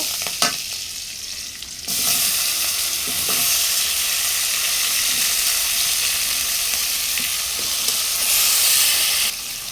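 Chopped tomatoes dropped into hot oil with onions for a fish curry burst into a loud, close sizzle after a short quiet start. The hiss holds steady and strong for several seconds before cutting off near the end.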